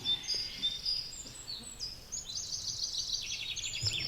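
Birds chirp and trill in bright, repeated phrases over a steady, soft wash of running water while a vegetable garden is watered at the end of the day. The calls are moderately distant.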